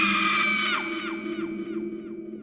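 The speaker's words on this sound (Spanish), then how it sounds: "De repente, un grito desgarrador rompió el silencio." A harrowing, inhuman scream rings out loud and sustained, its pitch sliding downward in repeated wavering falls before trailing off.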